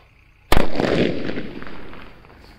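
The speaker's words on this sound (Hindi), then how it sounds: "ये देखा भाई आपने क्या शानदार और जोरदार धमाका हुआ हमारे मीडियम साइज के बुलेट बम का" A medium-size bullet bomb firecracker goes off in one sharp, loud bang, followed by a rolling echo that fades out over about two seconds.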